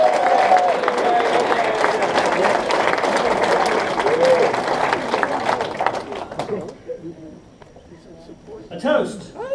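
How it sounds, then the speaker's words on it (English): Applause from a room of families and guests at a scout banquet, dense and steady for about six seconds before thinning out, with talk and murmuring underneath. "let's applaud our families for their support."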